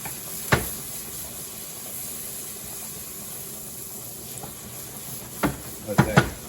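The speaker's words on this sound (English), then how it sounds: "And let that cook out." Vodka cooking off in a hot pan of tomato sauce for penne alla vodka, a soft continuous sizzle and hiss with occasional utensil knocks against the pan.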